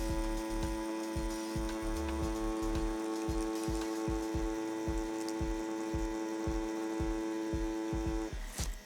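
Tattoo machine lining script lettering, a steady close buzz with regular rapid pulsing throughout, ending with a brief shift near the end; no talking.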